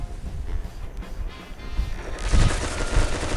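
Gunfire in the mobile shooter Pixel Gun 3D, a water-gun rifle battle, with scattered crackling shots and thumps blending into a dense, busy game soundscape.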